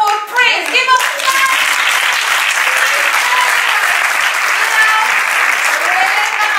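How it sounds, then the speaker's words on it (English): An audience breaks into sustained applause, a dense wash of clapping hands that starts after a brief voice and carries steadily at full loudness to the end. "Give him a clap."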